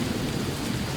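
Heavy rain pours down with thunder rumbling through it: a dense, loud, steady downpour that fills the whole second without a break.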